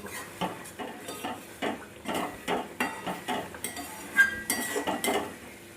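A spoon stirs pabda fish curry in a pan, scattered with coriander leaves, giving a series of rhythmic metal scrapes and clinks against the pan over a low, faint sizzle.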